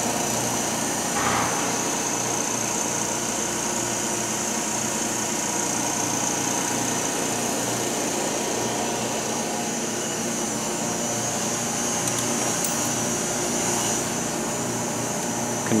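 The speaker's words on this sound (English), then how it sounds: "System rough pump." A rough vacuum pump on an EVG 520 wafer bonder runs continuously, giving a steady, even whirring drone with a broad airy hiss, close and unchanging throughout.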